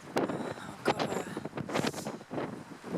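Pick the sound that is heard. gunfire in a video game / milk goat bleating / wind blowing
wind blowing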